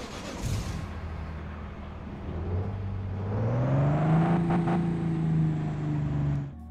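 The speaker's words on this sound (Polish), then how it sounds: "Dźwięk silnika benzynowego." Petrol car engine in Trucks and Logistics Simulator revving up from idle, pitch rising into a steady whirring drone before cutting off, heard alone and fairly close.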